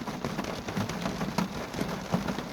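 Steady rain patters on a tablet screen close by, with dense irregular drop taps throughout and no voices.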